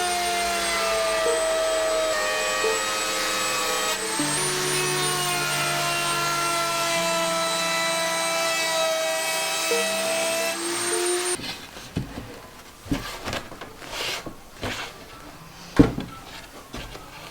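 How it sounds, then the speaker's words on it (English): A router whines loudly and steadily while cutting grooves in a board for a mitre saw station, then shuts off, leaving scattered clunks and taps as the workpiece is handled. "I've just got the router set up to be able to cut a couple of grooves where the board's going to sit,"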